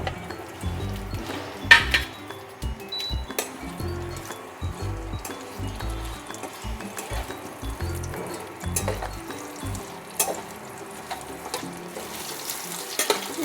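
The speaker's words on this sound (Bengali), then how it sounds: "আলুগুলো আমি একটু লাল করে ভেজে নেব" Potato strips frying in oil, a steady sizzle under repeated low knocks and clatter from stirring in the pan, with a brief scrape near the end.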